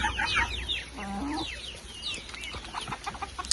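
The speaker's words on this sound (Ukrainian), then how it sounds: "Всі біжать оці курчата нічого не бояться. Всі біжать пити воду. І качки." Chickens and ducks in a village yard clucking and chirping as they rush to drink water, a busy mix of short calls close by with a faint voice in the background.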